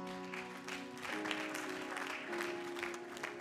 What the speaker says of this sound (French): Il c'est clair, acclame Jésus